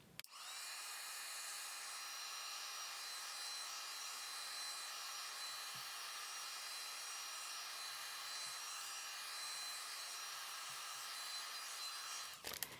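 Heat tool blowing hot air over wax paper for junk-journal ephemera, a steady, even rushing whoosh that runs unbroken for the whole stretch with no talking.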